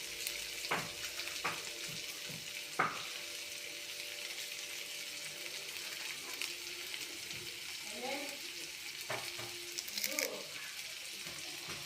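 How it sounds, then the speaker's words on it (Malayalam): Finely chopped shallots fry in a pan with a soft, steady sizzle, punctuated by a few sharp clinks and scrapes of stirring close by. "ചെറിയുള്ളി ചെറുതായിട്ട് അരിഞ്ഞത് അതൊന്ന് നല്ലപോലെ ഫ്രൈ ആയിട്ട് കിടക്കാം"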